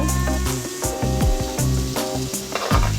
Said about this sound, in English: just a few tablespoons of extra virgin olive oil, and to that I will add my chopped onions